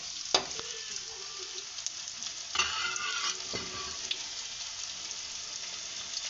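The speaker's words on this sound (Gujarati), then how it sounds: "ગુલાબી રંગની થાય ને ત્યાં સુધી સાતરવાની." Chopped onions sauté quietly in a pan, with a soft, steady sizzle and a few scraping stirs from a utensil, one noticeably louder stir partway through.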